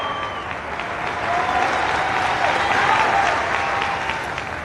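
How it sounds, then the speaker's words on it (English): Crowd at an Irish-American peace rally applauding enthusiastically, dense steady clapping that swells slightly midway and carries on at full strength, with a faint voice underneath. "they received an enthusiastic response from those in attendance at that Irish-American peace rally, with the First Lady joining in the applause"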